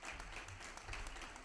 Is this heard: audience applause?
yes